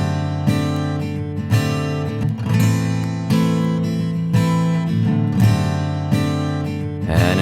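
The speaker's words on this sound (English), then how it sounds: "One guitar part is simple strumming." Simple strumming on a guitar, steady repeated chords in a regular rhythm, close and clear, with no voices.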